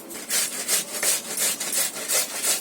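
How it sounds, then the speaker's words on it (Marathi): Peeled potatoes rubbed on a hand grater in a home kitchen, a steady rhythm of about eight rasping strokes, close and clear with no talking. "त्या किसणीवर किसून घ्यायचा. बटाटे किसले."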